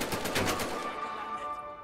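Enemy machine-gun fire in the VR game Medal of Honor: Above and Beyond, a rapid rattling burst of about six shots close by, then fading into a decaying tail.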